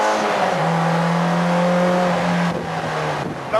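A race car engine revs hard and close, holding a high steady note for a couple of seconds before dropping off and picking up again.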